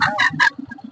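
Chickens for sale at a poultry market cluck loudly and close up in several quick bursts. Softer, lower clucks follow, with no talk.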